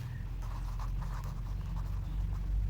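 Pen writing on paper, faint soft scratching strokes under a low steady background hum, close and quiet.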